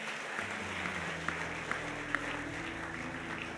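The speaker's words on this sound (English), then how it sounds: "You want to clap, you can clap." Scattered clapping from a small church congregation rises faintly over a low hum of room noise, with a few sharper claps standing out, fairly quiet and distant.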